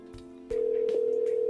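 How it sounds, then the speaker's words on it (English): Phone ringing in a visual novel video game: after a brief faint tap, a loud steady electronic tone abruptly starts and holds, close and alone. "why was that phone call noise so... Jesus! That's too loud."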